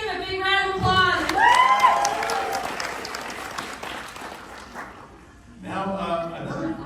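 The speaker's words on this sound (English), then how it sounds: "Let's give a big round of applause" At a CHOC Walk kickoff event, an outdoor crowd claps and cheers in a warm burst that fades, with voices speaking at the start and again at the end.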